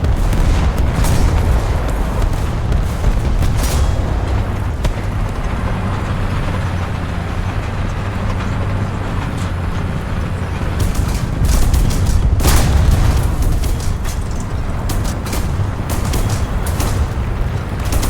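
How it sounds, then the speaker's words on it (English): Artillery strike explosions in the War Thunder tank game, a dense rolling barrage of deep booms over engine rumble, with heavier blasts near the start and again around the middle. "Artillery strike incoming."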